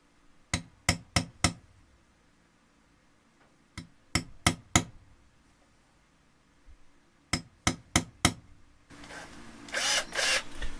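Quick clusters of sharp metal taps, then a brief high whirring of a 1mm drill bit biting into an electric guitar body for bridge screw pilot holes, close and moderately loud.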